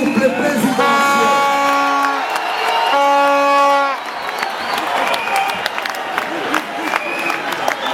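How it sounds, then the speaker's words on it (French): A crowd at a presidential rally in Paris applauds and cheers as the presidential couple leaves, with sustained horn-like toots over the noise at first, then scattered clapping, whoops and nearby voices as it thins out. "Applaudir la sortie du couple présidentiel."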